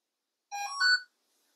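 A 3-axis phone gimbal gives a short power-on chime, a bright rising two-part electronic melody lasting about half a second, heard alone in a quiet room.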